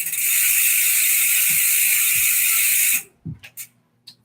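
Bike repair stand cranked by hand, giving a rapid continuous ratcheting buzz for about three seconds, close and loud, then stopping abruptly, followed by a few soft clicks and clunks.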